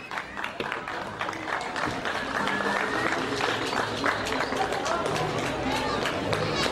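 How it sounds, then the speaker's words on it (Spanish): Audience applause at a town pilgrimage and theater festival, a steady crowd clapping that swells and holds for several seconds, with chatter mixed in. "Vamos a regalar un fuerte aplauso."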